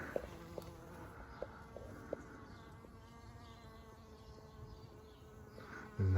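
Bees buzz around comfrey flowers in a garden, a faint, steady drone throughout with a few brief louder passes up close and a sudden bump at the end.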